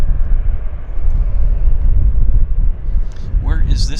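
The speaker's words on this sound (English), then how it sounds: "we've got a Boeing taxiing out" A Boeing airliner taxis at Vancouver airport, its engines a steady, loud low roar mixed with wind buffeting, and a brief higher whine rises near the end.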